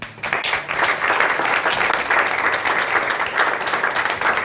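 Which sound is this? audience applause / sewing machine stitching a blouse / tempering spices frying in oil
audience applause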